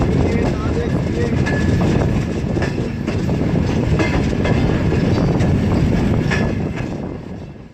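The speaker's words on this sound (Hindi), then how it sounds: "इस वक्त हमारी ट्रेन पहुंच रही है हैदराबाद जंक्शन रेलवे स्टेशन के प्लेटफॉर्म नंबर 1 पर" A train pulls into platform 1 of Hyderabad Junction railway station in India, giving a steady, loud rumble with faint clicks of rail joints that ease off toward the end. Voices sound softly underneath.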